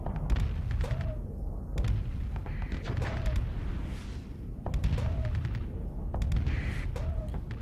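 Ship weapons fire in a space battle in the video game Starsector: repeated booming shots and thuds in irregular bursts over a continuous rumbling din, loud and close throughout.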